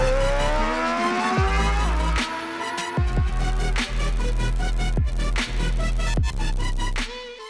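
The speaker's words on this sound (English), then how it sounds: "in today's video we take the 2023 Mazda CX-50 for a drive" A 2023 Mazda CX-50 crossover on the move, its engine rising and falling in pitch through repeated revs and gear changes, loud and close, with brief tire noise; no talk.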